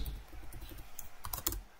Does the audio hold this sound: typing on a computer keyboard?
yes